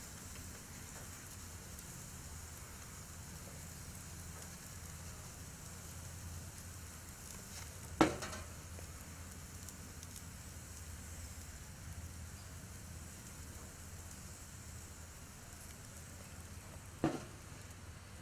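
Hot dogs seasoned with salt and pepper sizzle steadily in a pan, a constant close crackling hiss with a couple of brief louder pops, and no one speaking.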